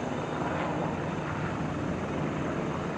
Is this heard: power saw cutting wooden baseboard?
no